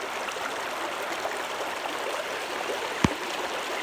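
The Hansari river flows in a steady broadband rush, close and continuous, with one brief knock partway through and no voices.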